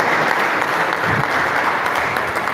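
Loud, close audience applause at an agricultural service capacity event honoring a college public relations unit, continuous dense clapping with a faint voice briefly underneath.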